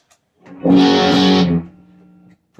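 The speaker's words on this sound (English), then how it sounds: "the TS9DX, I am running on the turbo mode." Electric guitar through a TS9DX overdrive pedal in turbo mode, gain at noon and tone high, plays a thick, distorted chord that swells for about a second, then fades into a lower sustained tail.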